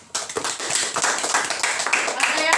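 Classroom students clap for a classmate after a teacher's praise, a short burst of close, uneven hand claps that starts abruptly and carries on with some voices mixed in.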